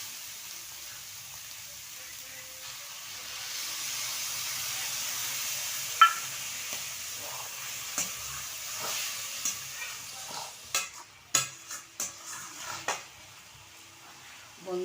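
Banana flower masala stirred in a pan as a little water goes in: a soft hiss builds midway, then a run of sharp utensil scrapes and clinks against the pan grows busier toward the end.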